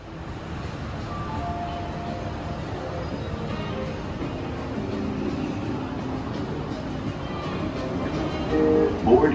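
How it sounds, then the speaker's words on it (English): A steady low rumble of an airport Skylink people-mover train running on its track, with an even hum throughout and a louder rise in the final second. "And that's the train."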